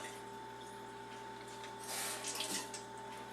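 Faint room hum, then a tap briefly runs with a soft splashing rush before fading back to quiet.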